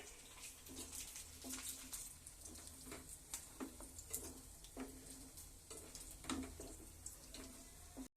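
Paneer frying in a pan for a paneer kofta gravy: a faint, steady sizzle broken by regular soft scraping pulses, as if the pieces are being turned.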